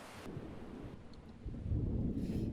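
A thunderstorm in the video game Creatures of Sonaria: a low rumble of thunder swells and grows louder toward the end over steady wind and rain noise.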